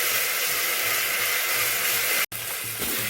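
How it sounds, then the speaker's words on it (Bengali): Ginger garlic paste frying with onions in a hot pan, a steady loud sizzling hiss throughout, briefly cut off once near the end, with no voices. "আদা রসুনের পেস্টটা দিয়ে একটু ভেজে নেব।"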